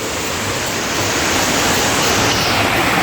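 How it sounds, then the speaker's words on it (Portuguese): A waterfall at Jaceruba in Nova Iguaçu, Rio de Janeiro, pours in a loud, unbroken roar of rushing water, close and steady throughout and gradually growing a little fuller, with no voices over it. "Olha ali a cascata."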